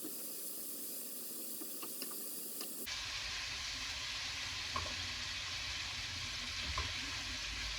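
Kangaroo meat sears and browns in a hot pan, first a quieter crackle, then a sudden jump into a loud, continuous close sizzle and hiss with a few small pops, no talking.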